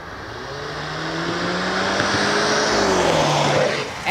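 2014 Audi A4 2.0T quattro cruising, a steady smooth engine drone with road and wind noise filling the cabin, engine note rising gently and easing off, no talk.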